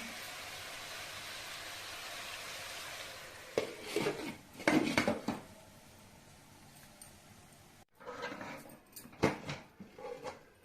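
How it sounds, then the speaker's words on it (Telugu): A metal lid clatters onto a cooking pot of leafy greens, a few close clinks and scrapes after steady stove hiss, then a quieter pause and more soft pot clatter. "మూత పెడుతున్నాను."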